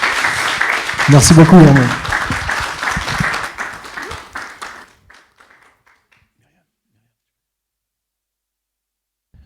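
A church congregation applauds at a Sunday service, loud clapping that peaks early and fades away after about five seconds, with a voice speaking over it before silence.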